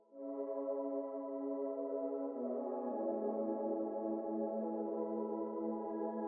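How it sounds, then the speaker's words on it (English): A soft, sustained synth pad from the Expand Arrival preset holds smooth piano-style chords, shifting once partway, with a steady, airy ambient tone and no voices. "But I just added this pad to add some more ambience to it."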